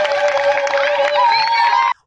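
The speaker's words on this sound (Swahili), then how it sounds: "Jamani, tumpigeni makofi." Crowd at a Swahili-language political gathering in Changamwe claps and cheers loudly and steadily for about two seconds, with shouts and whoops over the applause, then it cuts off abruptly.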